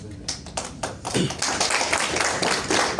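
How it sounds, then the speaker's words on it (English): Audience applause for a student group in an engineering management class, dense and steady clapping that builds after a few scattered early claps and keeps going to the end. "applause for the group 3"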